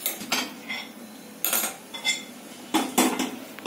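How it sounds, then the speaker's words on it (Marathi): A metal kadhai set down on a kitchen stove, with several sharp clanks and clinks of metal on metal in irregular bursts, close and clear, no voices. "आता मी कढई ठेवते"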